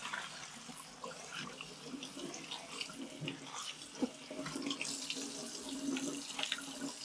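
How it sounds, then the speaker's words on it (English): Cold tap water runs steadily into a cooking pot in a home kitchen while Persian tomato and potato rice is being prepared, a continuous close splashing hiss with no talking. "All right, we just drain this and put some cold water."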